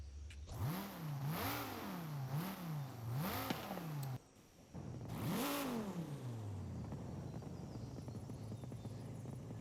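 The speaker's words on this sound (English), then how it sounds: "Do you hear that idle?" Idling car exhaust in Forza Horizon 5, loud and close, with repeated revving swells rising and falling, a brief drop in the middle, then one more rev settling into a steady rumbling idle.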